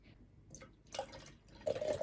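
Pure coconut milk from a Woolworths carton is poured into a container. It makes faint, soft liquid splashes and drips in short bursts, growing a little stronger toward the end of a quiet moment.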